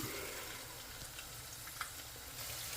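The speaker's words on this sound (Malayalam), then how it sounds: "എണ്ണ നല്ലതായിട്ട് ചൂടായിട്ട് നമുക്ക് തേങ്ങ ഇടാം" Grated coconut frying in hot oil, a steady, faint, close sizzling hiss with a few small pops, continuous throughout with no voices.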